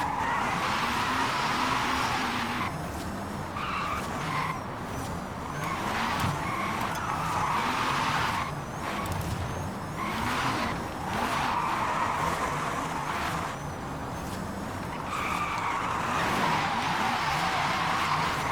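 A 1900 HP electric Hyundai Ioniq 5N drifts in Forza Horizon 5, its tires screeching and skidding in long, loud, continuous surges that swell and fade over about eighteen seconds, with no voices.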